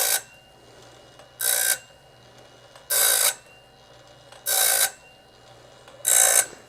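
Sawmill band blade sharpener with a rotating wheel grinding the blade, heard as five evenly spaced bursts of bright grinding roughly every 1.5 seconds over a low mechanical hum, with no talk.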